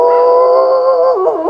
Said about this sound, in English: that bark howling is a threat display in response to that snow rake going up tall